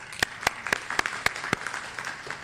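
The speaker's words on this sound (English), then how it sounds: "So give that applause." Sparse applause from a small audience at a North Carolina talk on HBCUs and equity: about six sharp, evenly spaced claps stand out over a faint patter of other hands, fading toward the end.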